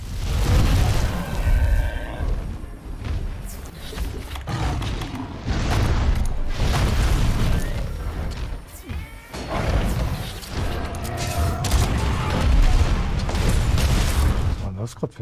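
Loud, dense bursts of gunfire and booming impacts in Monster Hunter: World crowd the whole stretch, with several sharp shots and crashes landing in quick, irregular succession.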